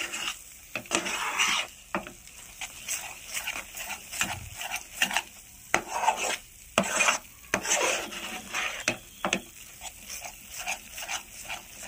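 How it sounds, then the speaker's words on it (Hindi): A spoon scrapes and stirs a thick mithai mixture cooking in a pan. The rasping strokes repeat irregularly and sit close and clear, with no talking. "इस तरह से लगातार आप चलाते रहिएगा।"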